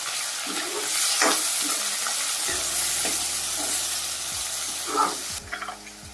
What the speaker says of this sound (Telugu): కొద్దిగా ఉల్లిపాయలు కొంచెం కలర్ మారేంత వరకు వేయించుకున్నాం